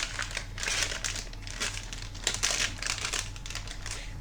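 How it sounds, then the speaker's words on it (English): A plastic packet of sausage meat is torn open by hand, giving a close run of crisp, irregular crinkling and rustling bursts that continues throughout with no voices. "I'm going to open the sausage meat."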